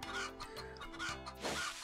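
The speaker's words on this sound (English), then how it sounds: "These fucking chickens." Video game chickens cluck in short repeated bursts over a busy, layered game soundtrack, fairly quiet in the mix.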